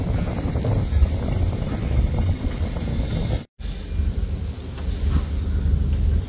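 Wind buffets the deck of a river launch in winter fog, a steady, loud rumbling gust against the microphone with one brief dropout in the middle and no talk.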